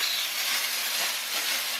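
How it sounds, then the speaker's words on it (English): A handheld steamer used as an interior detailing tool vents steam at maximum pressure, a steady, loud, broadband hiss that holds evenly for the whole span with no talk over it. "So here's the minimal, just putting out the minimal amount of steam, and then here's the max."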